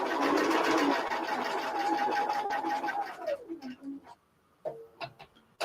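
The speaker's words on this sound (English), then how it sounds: "So this is all just straight sewing, really, except around the corners." Sewing machine doing straight stitching, a steady mechanical run that slows and stops after about three seconds, followed by a few soft clicks and handling noises nearby.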